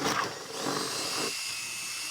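A power drill bores holes in a fiberglass repop dash for a 1,000 HP turbocharged Foxbody Mustang, making one close, steady high whine that runs for about two seconds.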